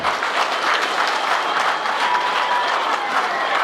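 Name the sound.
audience applause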